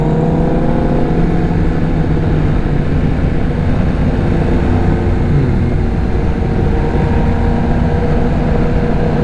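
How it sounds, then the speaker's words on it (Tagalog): Big motorbikes on a sharp mountain curve in Marilaque, Tanay, Rizal: a loud, steady engine drone with wind roar, nearby and continuous, the engine note easing as they slow for the bend. "pati mga big bike nagbagal din."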